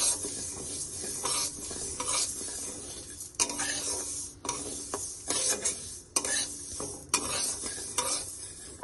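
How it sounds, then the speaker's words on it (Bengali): Mung dal dry-fries over a very low gas flame in a pan, a soft sizzle broken by repeated scraping and stirring strokes of a spoon, close and fairly quiet with no voices. "গ্যাসের ফ্লেম একদম কম করে রাখবে, কম করে রেখে ভাজতে থাকবে"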